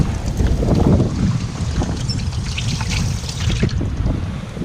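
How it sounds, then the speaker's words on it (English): Steady wind buffeting the microphone outdoors while cleaning tilapia, with rumbling gusts mixed with faint water sloshing nearby. "It is windy."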